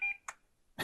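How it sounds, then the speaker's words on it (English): A short electronic tone from the PC speaker of a 1991 Packard Bell laptop opens the moment, followed by brief clicks and noise bursts, close and fairly quiet. "Nice little beep there at the end."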